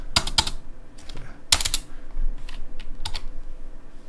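Fingers typing on a computer keyboard at close range, a few quick clusters of crisp key clicks separated by short pauses, with faint room noise underneath.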